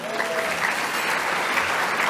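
A conference awards luncheon crowd applauds honored park districts, with dense, steady clapping filling the room at an even level throughout a short burst.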